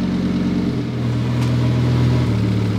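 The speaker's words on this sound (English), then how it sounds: "They do idle a little bit funny on the first start, as the fuel tubes adapt." A rebuilt Audi RS3 DAZA five-cylinder engine idling roughly on its first start, a steady loud close drone that shifts pitch slightly partway through, with no voices.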